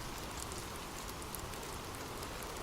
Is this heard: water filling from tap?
no